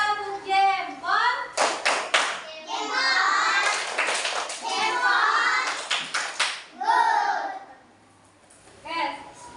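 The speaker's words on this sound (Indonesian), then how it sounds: "Tepuk jempol buat Abi. Tepuk jempol." A classroom of children claps a rhythmic thumbs cheer in quick bursts, mixed with their chanting voices and a teacher's speech between the claps.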